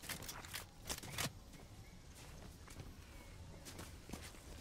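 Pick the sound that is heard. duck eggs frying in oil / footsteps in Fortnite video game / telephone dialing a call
footsteps in Fortnite video game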